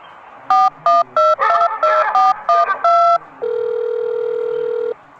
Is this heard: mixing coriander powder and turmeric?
no